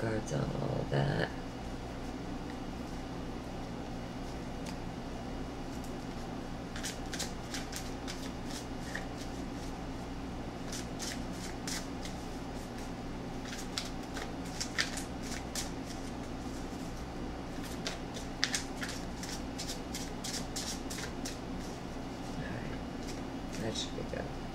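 Tarot cards are shuffled in repeated crisp riffling flurries under steady talk and a constant low background hum, close and fairly quiet.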